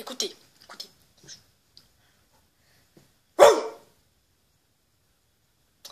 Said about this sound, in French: Un chien, ça fait ce bruit.